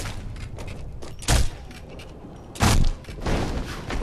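Two loud, close gunshots from Sniper Elite V2 crack about a second apart over a low game backdrop, followed by a rougher burst of noise.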